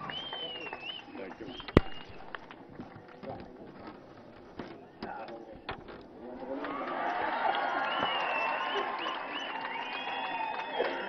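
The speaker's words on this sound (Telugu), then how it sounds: "అందరూ గట్టిగా చప్పట్లు కొట్టి ఈ అమ్మాయిని అభినందించాలి" Crowd applause at a public government gathering in Andhra Pradesh, rising into sustained clapping from many hands over the latter half, after an earlier stretch of scattered noise and voices.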